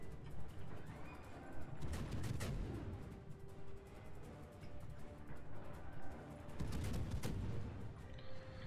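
Heavy naval gun salvos from the battleship Missouri in World of Warships, firing from a beached position, come as deep booming blasts around the two- and seven-second marks over constant rumbling battle noise, fairly quiet overall.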